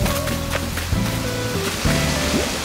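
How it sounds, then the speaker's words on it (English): Waterfalls on an island in the video game Animal Crossing, a steady, broad rushing wash that runs throughout beneath sustained background music tones. "Okay, we have two waterfalls."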